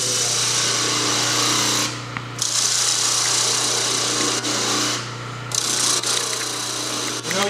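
A wood lathe turning a lampshade piece while a parting tool cuts in with heavy drag, giving a steady close motor hum under a rough scraping hiss that stops twice briefly, then resumes.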